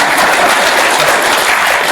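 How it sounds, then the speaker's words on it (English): An audience at the Yale Innovation Summit claps in dense, loud, sustained applause, a continuous wash of hand claps filling the room. "Can we give her another round of applause?"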